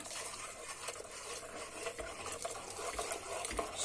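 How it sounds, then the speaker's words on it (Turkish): Spoon stirring a pot of soft-cooked vermicelli soup as an egg-lemon mixture is poured in: soft liquid swishes and gentle clinks, close and fairly quiet, with no talking. "Karıştırarak terbiyemizden ilave edelim"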